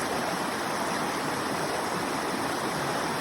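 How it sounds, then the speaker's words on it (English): A babbling stream runs over rocks and broken timber, giving a constant, full rushing and splashing wash of water, close and steady, with no voices. "I look at this stream. It's so calming and soothing"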